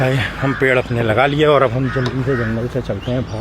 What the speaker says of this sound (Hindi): और ये भाई कौवे पता नहीं क्यों परेशान हो रहे हैं।